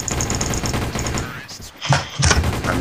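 An MP45 gun in Counter-Strike Source fires repeated shots in short rhythmic bursts, close and fairly loud, with a brief lull and then a few heavier reports, under talking voices.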